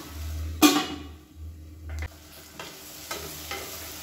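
Tomato masala sautéing in a pan for a masala kushka lunch, with a spoon stirring and scraping through the mix over a low steady hum. Short sizzling, scraping bursts come and go at irregular intervals; no one speaks.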